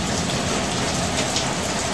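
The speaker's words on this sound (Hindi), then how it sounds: "बारिश हो रही है" Steady rain pours down in Lahore, Pakistan, a dense, even hiss of drops drumming on surfaces with no pauses, close and constant throughout, with no voices.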